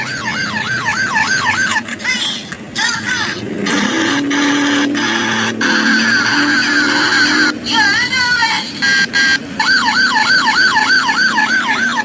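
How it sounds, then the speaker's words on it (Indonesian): A toy police car's electronic siren wails loudly in cycling up-and-down tones, switching between patterns and cutting off briefly several times, with a lower mechanical hum underneath midway. "Wow, teman-teman, ini ada mobil polisi teman-teman nih."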